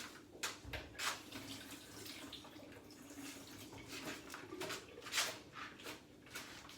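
Water running steadily from a tap while something is rinsed, fairly faint and close, with irregular splashes and spatters breaking through a continuous hiss.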